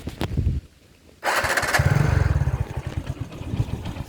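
A commuter motorcycle, fitted with parts taken from a Pulsar 220, cranks and starts after a short pause, then settles into a close, steady idle with a throbbing, slightly clattery rhythm.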